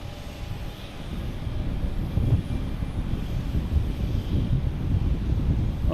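A Lufthansa Airbus A340 airliner rumbles at an airport, a low, steady, distant roar that swells slightly, mixed with wind buffeting the microphone.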